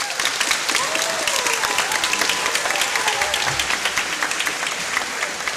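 Hackathon audience claps for the third-place winning team, a lively steady round of applause from a crowd, near and fairly loud, with a faint voice briefly heard beneath the clapping.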